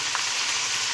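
Tomatoes hitting golden-fried chicken in a hot pan, a loud, dense, steady sizzle filling the whole moment with no voices.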